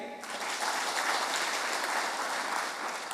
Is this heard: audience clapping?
yes